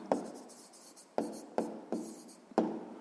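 A pen or pencil writes an answer by hand during a sixth-grade maths exercise, with close, sharp taps and short scratchy strokes coming in irregular bursts on quiet paper.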